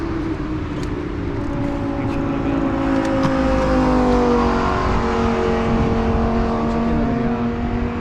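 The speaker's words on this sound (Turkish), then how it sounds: "Araba hızla gidiyor orada" Cars speed past on a busy Miami street, engines whirring and revving in a steady close roar with overlapping pass-bys, no voices heard.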